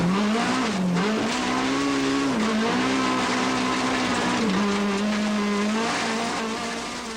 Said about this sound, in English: On to stage 3 and in car now with the up-and-coming Fakken